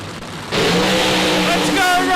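Outlaw nitro funny cars launch at Palmyra Dragway, a sudden loud engine roar bursting in after half a second of quieter sound and holding at full volume to the end, with an announcer talking over it.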